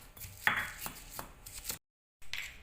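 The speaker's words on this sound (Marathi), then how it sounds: "आता एक कोथिंबीर पण तशीच वाटून घेऊया." Fresh coriander being coarsely crushed for thecha, heard as soft thuds and gritty scraping strikes, close and fairly quiet, broken by a brief moment of silence before the pounding resumes.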